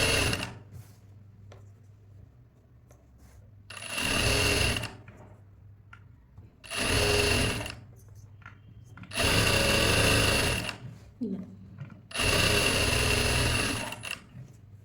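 Sewing machine stitching a blouse, running in four loud bursts of rapid whirring stitches separated by short pauses, close up with no talking.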